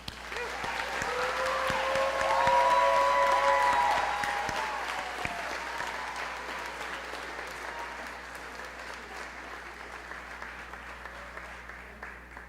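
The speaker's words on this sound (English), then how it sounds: "This is where we applaud for our first group." An audience at an eighth grade graduation ceremony applauds a group of graduating students, with moderate clapping that swells and then gradually thins out over several seconds, while a tonal sound rings briefly near the start.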